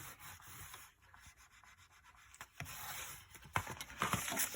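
Close, faint rubbing strokes come from burnishing paper down onto a mini album page, in short irregular bursts that grow louder and scratchier toward the end.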